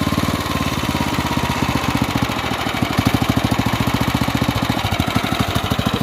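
Off-road kart's small engine with a dirty or lean carburetor idles roughly in a fast, steady low thumping pulse, loud and close, with no voices over it.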